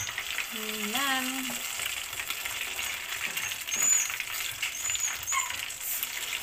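Chicken seasoned with paprika fries in a pan, a continuous dense sizzle and spatter close by; a voice speaks a short word briefly near the start, and faint high squeaks surface later.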